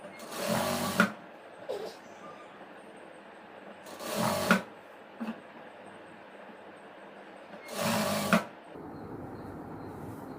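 A sewing machine stitching chudidhar fabric pieces in three loud, close bursts of rapid whirring, each about a second long, separated by quieter pauses with faint handling noise and light clicks.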